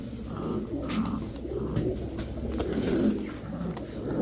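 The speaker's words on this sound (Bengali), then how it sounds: "ওর সাউন্ডটা দেখছেন নরকবুতর" A male pigeon coos in low, repeated throaty rolls close by, with faint rustling and background noise and no speech.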